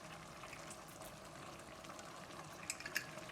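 Tomato sauce poured into a pan of vegan bolognese gives a steady, soft liquid wash, ending in a few brief wet clicks and splatters.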